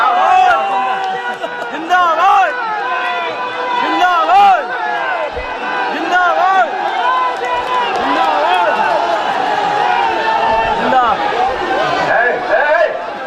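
Young party workers at a political rally hoot and shout in a loud, dense crowd roar, many voices overlapping with whoops and calls that continue unbroken throughout.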